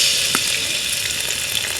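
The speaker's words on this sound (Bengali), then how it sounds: "তাকে সুন্দর মতো একটু ভেজে নিচ্ছি কিছুক্ষণ ভেজে নিব" Oil sizzles and crackles steadily as onion and garlic paste fries in a wok, with a soft stirring scrape partway through.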